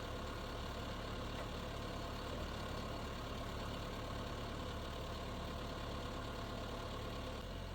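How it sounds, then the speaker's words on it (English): A farm tractor fitted with a skid steer quick connect idles in snowy cold weather while its hydraulics are cycled. The engine keeps up a steady, loud, unbroken rumble throughout, with nothing else heard. "trying to cycle the hydraulics to get the warm fluid out of the tractor to move out to the extremities."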